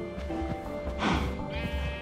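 A cow moos in the video game Minecraft, a loud drawn-out tonal call swelling near the middle of the clip over soft in-game footsteps and ambience.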